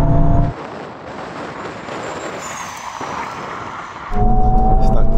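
Honda Civic Type R and Toyota GR Yaris in a drag race, loud engine roar heard from inside, dropping off as gears shift, then surging again near the end.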